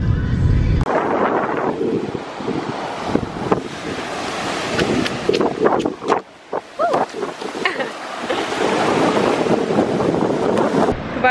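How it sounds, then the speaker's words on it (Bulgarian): Strong wind buffets the microphone on a beach at Rosenets, with roaring gusts and surf noise that briefly dip near the middle before building again, loud and close throughout. "духа много вятър, не знам да се чува"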